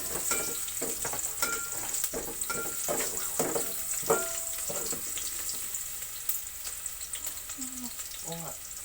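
Garlic sizzling and frying in a pan for menudo, a steady close crackle running throughout with occasional stirring scrapes and brief faint voices.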